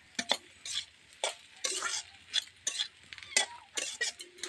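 Fried rice with chopped coriander leaves and a little sugar is stirred in a pan, giving close, irregular scraping strokes and metallic clinks of the utensil against the pan with faint sizzling between them; no one speaks.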